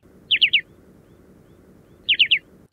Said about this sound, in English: The short-billed has a staccato too-too-too,